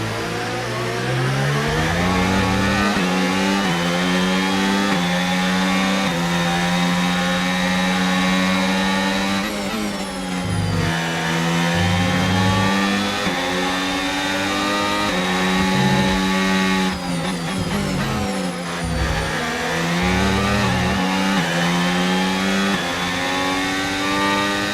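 An overheating Formula 1 car engine in F1 25 drones loudly and continuously, rising and falling in pitch as it revs up through gears, with brief dips where shifts and corners interrupt the steady whine.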